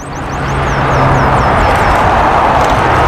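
Steady broadband roar of a passing airplane, loud and continuous with a low engine drone, heard alone without talk.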